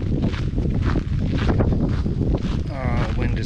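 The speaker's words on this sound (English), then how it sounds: "The wind is really blowing." Strong wind gusts batter the microphone outdoors in a loud, continuous low roar that never lets up, with a brief voice near the end.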